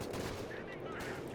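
A machine gun in the Company of Heroes 2 strategy game fires bursts at Panzer Grenadier infantry. Rapid, dense gunfire rattles on at a fairly low level, with battlefield noise blended underneath.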